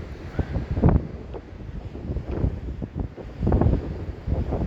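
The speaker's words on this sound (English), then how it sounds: "I'm hoping this one's not going to be that bad where all you can hear is wind" Strong gusting wind buffets the microphone on a rainy seaside walk in Blackpool, with irregular loud bursts and lulls of rough low roar throughout.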